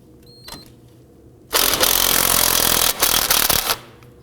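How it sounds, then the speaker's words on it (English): An impact gun loosening the front axle nut on a 2005–2009 Subaru Legacy 2.5L, a loud close rattling burst of about two seconds that briefly dips, then resumes before stopping, after a few quiet clicks. "I'm going to go ahead and use my impact gun"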